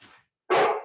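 A pet dog at home gives a short, faint yip, then after a brief silence lets out one loud, close bark on command.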